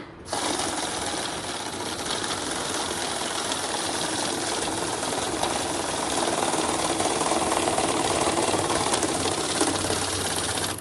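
A cash counting machine runs steadily through a stack of Indian rupee banknotes, giving a dense, continuous whirring flutter of notes feeding at close range for about ten seconds, with no talk over it.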